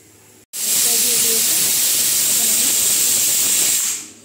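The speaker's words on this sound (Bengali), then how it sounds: "এই যে একটা দেখেন সিটি দিয়েছে।" Pressure cooker whistle blasting steam while potatoes and chicken cook for ghugni, a sudden loud sustained hiss starting abruptly and holding for about three and a half seconds before fading, close by with no speech.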